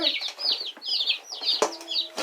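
Young chicks in a home brooder, a quick run of soft, high clucks and peeps at close range, with a couple of sharper sounds near the end.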